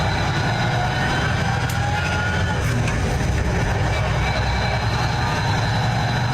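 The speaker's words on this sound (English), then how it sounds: "every time I shift, you can hear that engine lug down, and then that turbo spools up" A truck's heavy diesel engine runs loud and continuous, its low rumble dropping as it lugs down between gears before the turbo spools back up.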